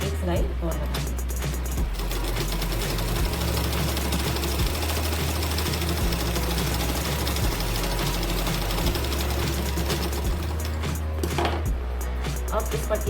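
A sewing machine stitches a folded strip of blouse fabric in steady bursts of rapid, even mechanical chatter, stopping briefly and restarting, while someone talks throughout.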